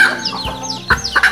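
A Tân Châu bantam hen with a dark, burnt-colored plumage clucks close by in a few short bursts, surrounded by the thin peeping of four young chicks.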